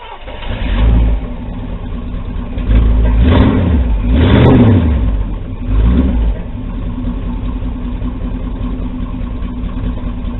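A 1976 Chevy V8 with a mild cam and stock cast iron exhaust manifolds runs close up with a lumpy idle, blipped through several short revs before settling back to its uneven loping rhythm.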